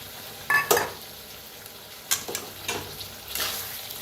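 Potatoes mixed with curd roast in a pan as they are stirred, giving a low sizzle broken by several sharp scrapes and clanks of the utensil against the pan at irregular moments, close up and without talk.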